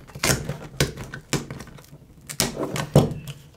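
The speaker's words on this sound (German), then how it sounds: "Muss ja lediglich mit dem Werkzeug zwischen Rahmen und Backcover reinfahren und kann es dann Stück für Stück vom Rahmen ablösen." A tool pries the glued plastic back cover off a Samsung A-series phone, separating it from the frame in a series of sharp, close plastic clicks and snaps spaced irregularly about half a second apart.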